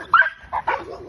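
A dog on a walk barks at another dog: a sharp, close yip followed by two quicker, higher barks that tail off into a whiny whimper, all within about a second.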